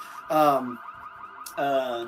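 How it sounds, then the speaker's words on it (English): Car alarm going off in Project Zomboid: two loud, harsh wailing blasts separated by a steady warbling tone, close and insistent, with no talking. "Every car I touch has an alarm"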